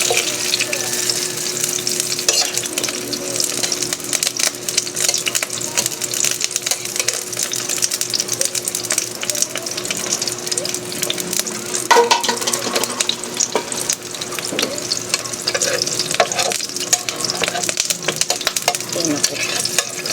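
Steady crackling sizzle of eggplant frying in hot oil, dense and continuous throughout with occasional sharper pops and spatters.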